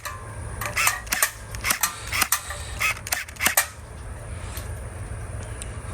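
A Gel Blaster Surge toy blaster shooting gel balls at targets and cans in single fire mode, giving a dozen or so sharp clicking snaps in quick uneven bursts over a low steady hum, with no talking.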